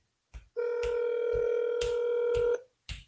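A telephone line during a cold call gives a sustained steady tone of about two seconds, with short dialing clicks and beeps before and after it, close and clear.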